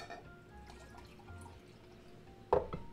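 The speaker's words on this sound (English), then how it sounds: "6 tablespoons of dill pickle juice. All right, I'm going to pour a little bit in my measuring cup" Dill pickle juice splashes into a measuring cup in one short pour near the end, close and fairly clear against quiet kitchen background.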